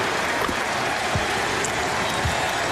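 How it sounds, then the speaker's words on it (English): An arena crowd at Game 4 of the 2002 NBA Finals chants MVP for Jason Kidd, a steady wash of loud crowd noise and cheering with no pauses. "The crowd chanting its appreciation of Jason Kidd with the MVP mantra here."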